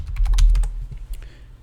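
Someone types a short command on a computer keyboard: a quick burst of close, crisp key clicks, then a few slower, fainter taps as the typing tails off.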